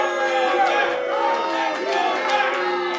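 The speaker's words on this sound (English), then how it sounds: "And this crowd is showing no love." Wrestling crowd at an NWA Powerrr world title match, a dense, continuous roar of voices with shouting and jeering sustained throughout at steady loudness.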